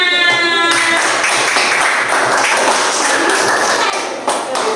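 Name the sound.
students clapping for a group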